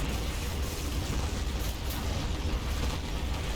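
Heavy artillery barrage in Combat Mission at Monte Cassino, a continuous low rumbling roar of distant shelling with layered booms, steady and dense throughout, with no voices.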